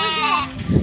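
A lamb gives a single short, wavering bleat close by, loud and clear, followed by a brief low rustle.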